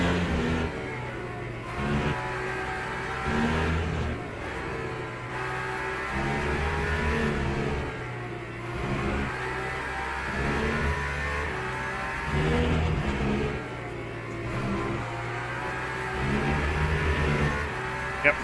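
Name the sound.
race car engines in video game Le Mans Ultimate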